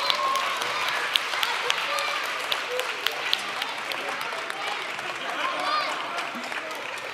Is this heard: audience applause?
yes